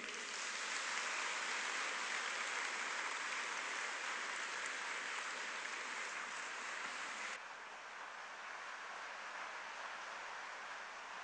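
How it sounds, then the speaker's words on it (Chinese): Steady applause from a lecture-hall audience welcoming a Central Party School professor to the stage, a dense wash of clapping that holds level for about seven seconds, then drops slightly and carries on to the end. "掌声有请。"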